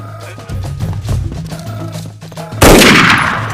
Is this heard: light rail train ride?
no